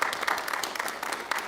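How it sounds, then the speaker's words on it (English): Warm applause from the audience at Zev's bar mitzvah service, steady dense clapping that holds through the whole moment with no talk over it. "all in attendance, I don't usually do this, can give Zev a little round of applause."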